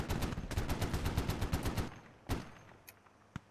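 Rapid automatic gunfire in a Squad military simulation game: a fast, evenly spaced burst lasting nearly two seconds, then a single loud shot and a few scattered distant cracks, fairly close and with no talking.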